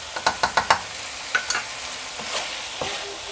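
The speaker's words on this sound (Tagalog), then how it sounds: "ilagay na rin natin yung ating kimchi juice." Kimchi fried rice sizzles in a pan after kimchi juice is added. A quick run of sharp spatula scrapes and stirs is followed by a few softer strokes over a low sizzle, with no voices.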